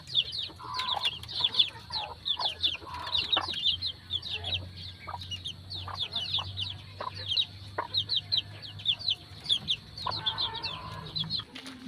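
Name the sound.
chicks and chickens clucking at a game farm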